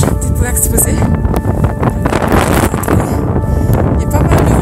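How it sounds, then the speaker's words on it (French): Loud, gusty wind roars and buffets the microphone on an exposed summit ridge of a mountain, with voices partly heard under the wind. "Il y a pas mal de vent, un peu rafale aussi"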